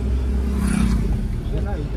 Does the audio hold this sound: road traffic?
yes